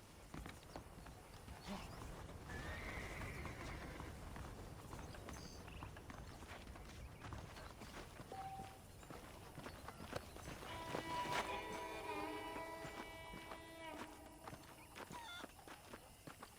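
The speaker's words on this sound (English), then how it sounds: "The horses are saddled up over here." Horse hooves clip-clop at a walk in the game Red Dead Redemption amid soft outdoor ambience, with faint game background sounds and a brief tonal chime partway through.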